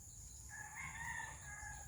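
A rooster with a drooping, folded tail crows once, a single drawn-out call of about a second that rises and holds before it fades, set against a steady low background hum, with no voices.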